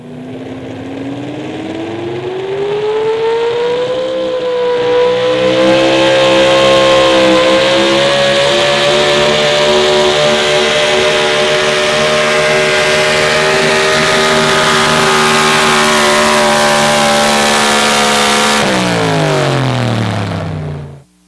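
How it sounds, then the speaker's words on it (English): A loud Chevrolet pro stock 4x4 pulling truck with a V8 engine that is misfiring and not hitting on all eight cylinders roars at full throttle, pitch climbing then holding steady for a long pull before dropping sharply as it backs off. "he was not hitting clean on all eight cylinders"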